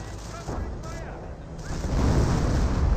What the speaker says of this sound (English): And now got a creeping barrage there.